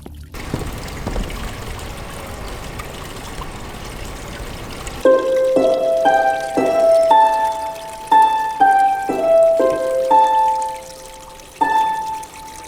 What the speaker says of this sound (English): We present the Water Harp.